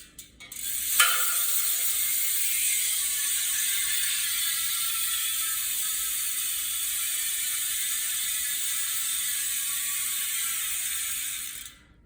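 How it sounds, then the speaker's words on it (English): A Hope Pro5 bicycle hub with a micro spline freehub spins freely, giving a continuous fast ratcheting buzz from the pawls that runs steadily for about eleven seconds after a brief start, then stops abruptly. "talking about the free hub, let's give this wheel a spin and check out the soundtrack"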